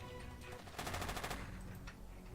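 Submachine gun fire in a first-person shooter game, a single short rapid burst of about eight quick shots, fairly close and crisp, over a steady low background hum.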